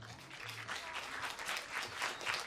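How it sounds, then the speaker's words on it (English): Spectators clapping for a skeet shooting finalist at a competition, a moderately distant, rhythmic swell of applause that pulses in waves and holds steady across the short stretch. "Who's here and want to clap for Zaitseva"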